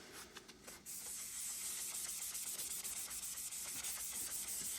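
Coating being sanded off a surface by hand with 400 grit sandpaper, a steady close scratchy rubbing with brief strokes at the start, then continuous back-and-forth abrasion.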